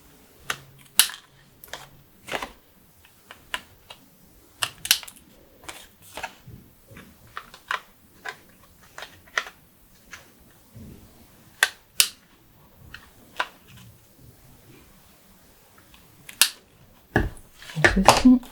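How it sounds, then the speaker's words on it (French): Scissors snip the overhanging edges of material while a box is being decorated. The sharp cuts come close and clear in an irregular series, with brief quiet gaps between them. "Donc ensuite, on coupe ceux qui dépassent."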